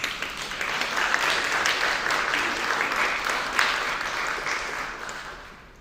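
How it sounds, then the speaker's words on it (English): Sustained audience applause at a cultural heritage seminar in Kaustinen, a dense, steady wash of many hands clapping that holds for several seconds and tapers slightly at the end. "So one more applause."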